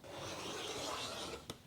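A cutter drawn through quilt fabric along a ruler makes one steady, close rasping stroke of about a second and a half, ending in a small sharp tap.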